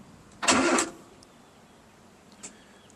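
Mazda B2200 pickup with a swapped-in Kia FE3 engine and a recently troublesome starter, cranking in one brief whirring burst, followed by a faint click.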